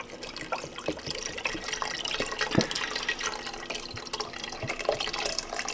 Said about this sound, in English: now we're going to add our chicken broth, 4 cups of chicken broth